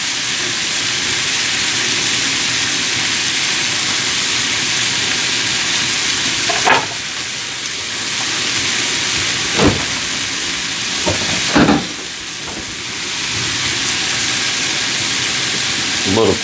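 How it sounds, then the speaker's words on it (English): Kerrygold butter melting into a pot of cooking grits, a loud steady sizzle and hiss close up, broken by a few brief clinks and scrapes of a utensil. "This is Kerrygold butter. I'm going to add that to the grits."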